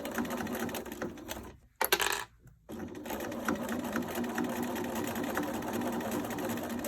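Sewing machine stitching a pouch lining, a fast rattling needle run that pauses briefly midway, restarts in a short burst, stops again, then runs on steadily and close.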